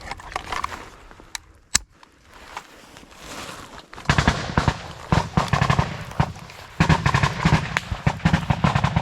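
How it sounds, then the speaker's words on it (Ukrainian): Sharp booming artillery reports and bursts of heavy firing near Bakhmut, some isolated blasts followed by dense clusters of loud impacts. "ворожі гармати так само відпрацьовують по нашим хлопцям"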